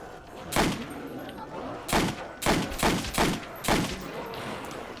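Gunfire in the zombie video game Nacht der Untoten: five heavy, booming shots spaced unevenly about half a second to a second apart, loud over a steady rumbling game background.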